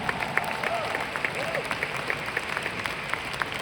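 Audience at a business training seminar giving steady, moderately close applause, with scattered claps in a continuous patter and faint crowd murmur underneath.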